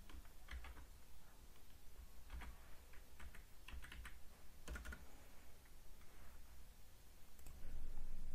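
Keys clatter on a computer keyboard in irregular bursts of quick taps, near and fairly quiet, with short pauses between runs and no talking.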